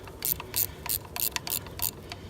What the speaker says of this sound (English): I'd just rather ratchet this down, so I'll do that.